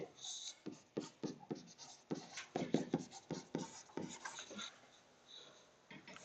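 Marker or chalk strokes on a classroom board during a precalculus lesson, a quick series of short scratchy squeaks and taps in uneven rhythm, close and moderately loud, with faint room sound between strokes.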